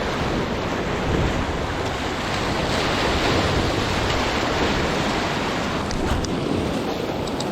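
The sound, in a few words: sea swell and waves on a reef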